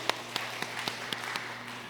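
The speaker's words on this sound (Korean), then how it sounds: "하나님 영광에 박수 드립니다." A church congregation during a Sunday service claps in a slow, steady rhythm, each clap sharp but faint against a quiet background, about eight claps in under two seconds.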